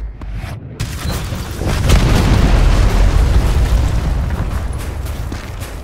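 Hellstorm missile strikes detonate in Black Ops 4, producing a loud, heavy barrage of booming explosions that rumble continuously and build to a sustained roar close at hand.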